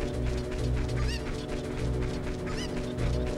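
Chicken clucking from The Legend of Zelda: Ocarina of Time comes in two short honking, warbling bursts over steady game background music, fairly clear and close.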